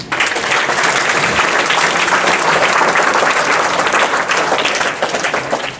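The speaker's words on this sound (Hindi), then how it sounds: "उन बच्चों के लिए तालियां बजाओ" A large crowd applauds loudly and continuously, a dense wash of clapping that holds steady throughout and fades slightly at the end.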